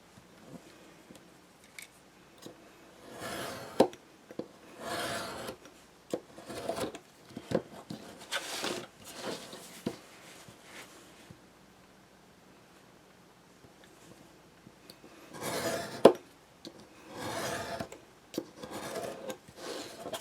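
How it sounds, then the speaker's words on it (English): Craft knife trimming pieces for a cabin model, heard as short scraping and rasping cuts in separate bursts with quiet gaps between them, close-up and moderately loud. "And then we're just going to trim off with our craft knife."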